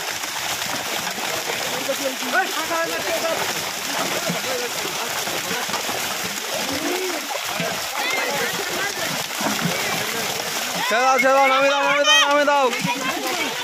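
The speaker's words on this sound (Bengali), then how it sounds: "এবার জাল ছেড়ে নিয়ে আসা হবে" A fishing net is hauled through pond water, producing steady splashing and sloshing throughout, with people talking over it and a voice rising near the end.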